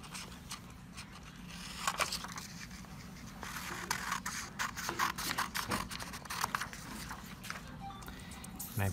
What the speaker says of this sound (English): I'm going to cut out my first 2 boxes.